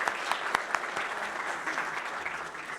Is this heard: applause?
yes